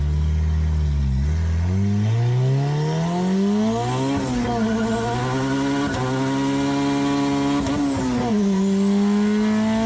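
A turbocharged car named Eleanor makes a hard full-throttle pull, its engine note climbing steadily in pitch through the gears with brief dips at each shift. The sound is loud and close, with no talk over it.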